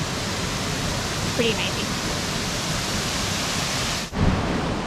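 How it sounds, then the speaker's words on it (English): Cedar Creek Falls pours in a constant broadband roar of rushing water close by, while a person speaks briefly over it. "We are at Cedar Creek Falls."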